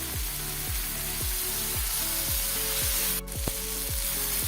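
Steady, loud sizzling of garlic and ginger frying in a hot pan, continuous throughout, with a faint repeating mechanical tick underneath.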